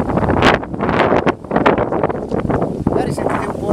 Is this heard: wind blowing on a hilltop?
yes